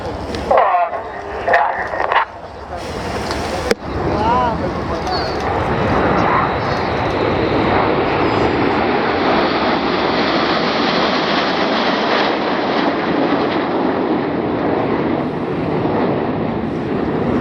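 Jet aircraft roar past at an air show, a loud broadband rush that swells and holds steady for most of the clip after a few sharp knocks at the start, with a commentator speaking over it.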